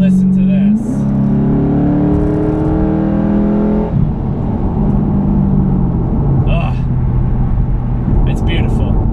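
A loud modified 2006 Ford Mustang GT engine revs hard, rising in pitch, then drops back and settles into a deep rumbling idle with a few more throttle blips.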